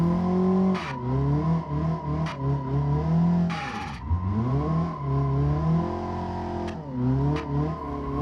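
A Volvo 740 Turbo drift car in the BeamNG Drive video game holds a loud, steady engine drone, dipping sharply on a downshift around the middle and then climbing back under full throttle, with short bursts of tire noise.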